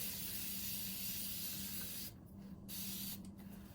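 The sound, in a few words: spray bottle spraying water on leather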